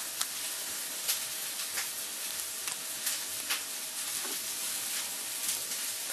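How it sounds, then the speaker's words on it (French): Onions sizzling in a frying pan while making a pepper and shrimp pie, a steady close hiss with small crackles and pops scattered throughout. "j'entends les oignons qui claquent"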